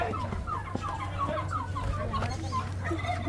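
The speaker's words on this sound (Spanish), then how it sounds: "Mire, Henry, como el gallo." A rooster clucks close by in a quick series of short, repeated calls over a constant low background hum.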